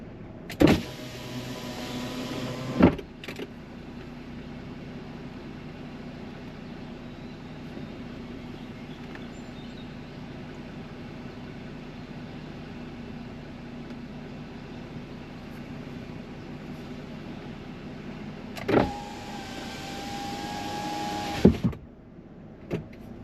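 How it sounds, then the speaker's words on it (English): Electric motors lower a car's power windows in two separate whirring runs of about three seconds each, heard from inside the cabin over a steady low interior hum. "So next video we're gonna do windows down now."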